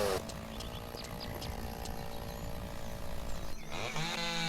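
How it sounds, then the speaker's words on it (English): Chainsaw in the video game Lumberjack's Dynasty, a steady droning engine running throughout with a brief shift in tone near the end, no talking. "Now I'm just going to whip out the old chainsaw."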